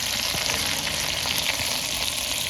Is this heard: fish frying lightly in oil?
yes